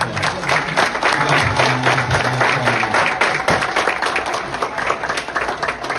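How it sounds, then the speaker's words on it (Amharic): Audience applause at an award ceremony, a dense, steady wash of many hands clapping that fills the whole stretch at full strength, with faint voices mixed in underneath. "ጭብጨባ ያስፈልጋቸዋል።"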